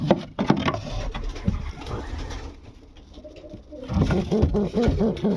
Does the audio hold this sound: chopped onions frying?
no